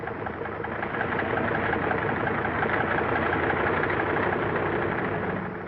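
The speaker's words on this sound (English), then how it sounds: "The sound of the engines warming up starts before dawn, echoing back from the mountains that flank the field." Several military bomber engines idle and warm up together at an Aleutian airfield, a steady dense droning roar held at constant loudness throughout with no voices.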